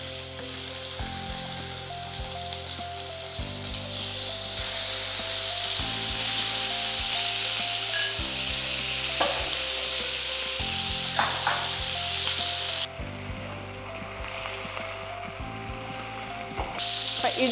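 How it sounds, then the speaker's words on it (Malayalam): Chicken pieces fry in oil for Kashmiri chilli chicken. A loud, steady sizzle continues throughout under background music, with a few small pops. "ഈ സെയിം ഓയിലേക്ക് തന്നെ നമുക്ക് ഈ ചിക്കൻ ചെറുതായിട്ടൊന്ന് ഫ്രൈ ചെയ്തെടുക്കണം"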